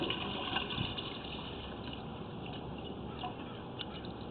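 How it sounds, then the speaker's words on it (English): Water from a flushed toilet rushes and gurgles steadily through the drain pipe of an apartment at 121 Church St, a close, continuous flow with no talk. "So number 6 just flushed the toilet."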